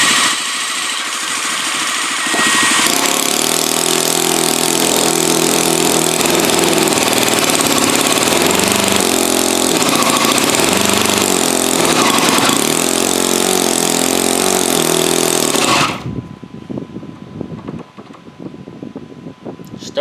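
A small ENJOMOR 10cc Whippet flathead model gasoline engine runs with a loud, steady buzzing drone and rattling firing pulses for about fifteen seconds, then cuts abruptly, leaving quieter rustling and handling noise.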